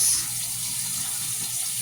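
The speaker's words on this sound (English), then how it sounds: "we're going to get 1 cup of water, maybe a half a cup of water, pour it into our salmon" Water poured from a container into a pan of cooking salmon, a steady close gushing splash that holds evenly for about two seconds, with no talking.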